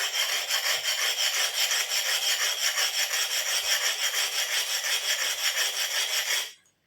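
An old antique axe being restored is rubbed on a silicon carbide stone in steady rhythmic strokes, a close continuous rasping scrape that keeps an even pace and then stops abruptly.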